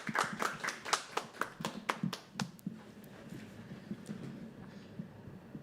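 Audience clapping at a live poetry open mic at The Habitat, starting as a burst of separate, quick claps that thin out after a few seconds into faint scattered taps over low room murmur.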